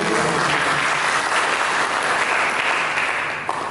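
A church congregation applauds in a dense, continuous wash of clapping that stays loud and even for several seconds before tapering slightly at the end.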